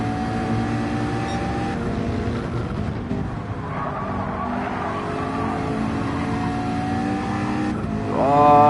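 Race cars in a racing video game run side by side into turn 1 at Fuji, their engines droning and layering with several tones, then one revs up sharply at the end, loud and continuous.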